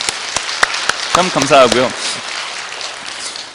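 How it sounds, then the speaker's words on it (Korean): A church congregation claps for its elders during a sermon, scattered sharp claps merging into a soft wash of applause while someone speaks briefly over it. "박수 한번 할까요?"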